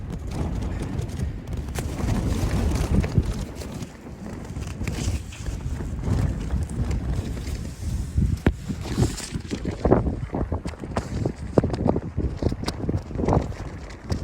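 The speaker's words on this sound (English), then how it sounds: "it's definitely windy out there." Gusty wind buffets the microphone outdoors on a Lake District fell, roaring and rumbling in uneven bursts throughout, with no talking.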